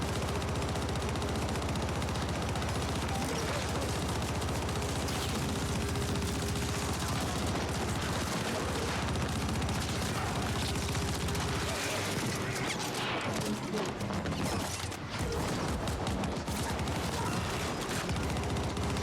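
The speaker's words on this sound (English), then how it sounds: "He's too small, I can't hit him with my minigun." Minigun in The Ascent spins and fires in a relentless, dense roar for most of the stretch, mixed with explosions and impacts, easing briefly near the end before resuming.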